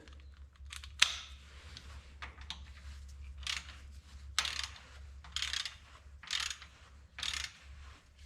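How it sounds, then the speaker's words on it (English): Ratchet tightening bolts during reassembly of a 1969 Minneapolis Moline U302 tractor engine: several short bursts of ratcheting clicks in an irregular rhythm, close and moderately loud over a steady low hum. "I'm going to tighten them down a little bit more with the ratchet."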